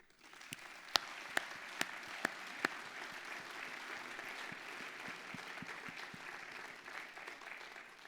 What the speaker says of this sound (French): je vous propose de les remercier par des applaudissements.